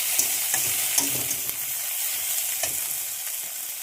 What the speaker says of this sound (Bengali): পেঁয়াজটা আমি ভেজে নেবো লাল লাল করে